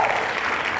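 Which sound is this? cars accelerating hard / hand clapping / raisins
hand clapping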